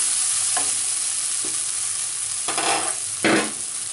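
Vegetables frying in a pan for semolina upma, with a steady sizzle and a few scraping stirs of a spoon, close and fairly loud, no voices.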